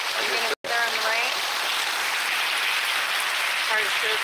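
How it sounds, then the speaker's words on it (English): Steady heavy rain pours down during a Florida thunderstorm, a constant loud hiss that fills the whole clip apart from one brief dropout, with faint sounds near the start. "Are you gonna sit there in the rain?"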